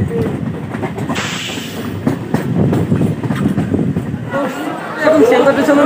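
A crowded commuter train pulls into Sealdah station, with a steady rumble and rattle of the rail cars and passengers chattering close by throughout.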